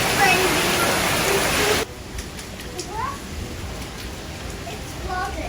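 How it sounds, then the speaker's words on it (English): Heavy rain pouring down in a Sri Lankan mountain village, a loud dense hiss for the first two seconds before dropping abruptly to quieter background with faint chirps. "Today we have a rain. It's pouring down."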